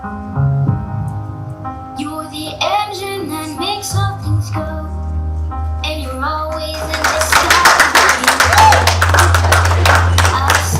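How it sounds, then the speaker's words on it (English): Loud audience applause and cheering fills the hall at the Miss Grand Ghana 2023 crowning ceremony, swelling to a dense, steady roar of clapping that follows music and an announcer's voice. "Ladies and gentlemen, please, a round of applause for Miss Zahara Imani."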